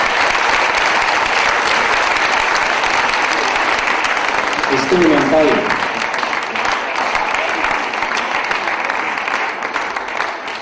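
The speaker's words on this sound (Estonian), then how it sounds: "Aplaus talle." Steady audience applause at the 2007 Estonian men's bodybuilding championship, loud and continuous throughout, with a voice briefly speaking over it.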